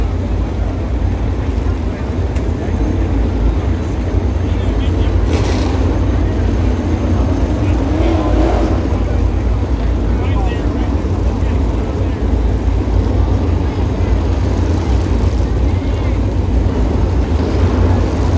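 NASCAR race cars move out onto the Charlotte speedway, a steady, heavy engine roar with crowd ambience that stays loud and continuous throughout, while voices talk faintly underneath.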